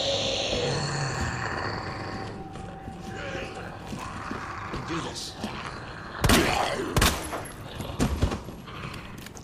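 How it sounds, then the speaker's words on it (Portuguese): Several loud gunshots at a zombie crack in a cluster near the end of the clip, over background noise and grunts in the Resident Evil 2 Remake demo. "é muito tiro pra matar um zumbi"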